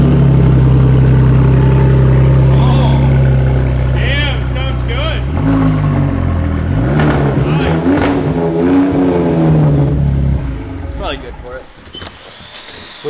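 Shifter kart engine with the muffler removed, a loud raw droning idle and rough revs close up, with people talking over it.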